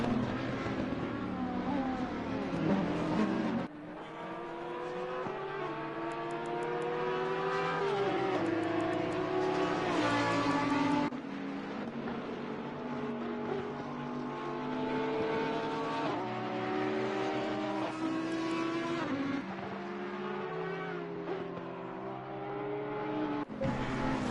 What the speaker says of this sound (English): number 911 Porsche. Oh, what a beautiful sound that is.